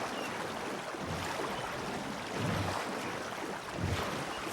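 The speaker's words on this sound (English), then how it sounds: "I love the sound of water." Water washes and laps around a small boat on a river in Red Dead Redemption 2, a steady soft rushing hiss with gentle low swells rolling through, with no talking over it.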